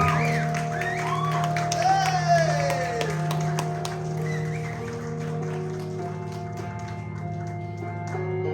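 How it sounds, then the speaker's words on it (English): An audience at the Talent Search Cymru talent show applauds after a performance, a moderate spread of clapping under a host's voice and lingering musical tones. "round of applause for him"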